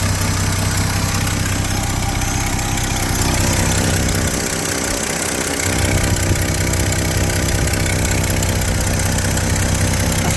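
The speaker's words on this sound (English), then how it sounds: "I think the exhaust manifold needs a new seal on it." 1972 Chevy C10 pickup engine idling with a leaking exhaust manifold, a close, steady rough rumble with constant hiss and ticking texture, briefly dipping in the low end midway before resuming evenly.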